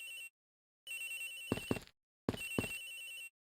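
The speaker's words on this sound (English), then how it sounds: "Hicks's phone is ringing somewhere, sir." A phone in the Ace Attorney Investigations video game rings in repeated electronic bursts with pauses between them, clear and close, with bright tonal chimes and a few sharper accented notes.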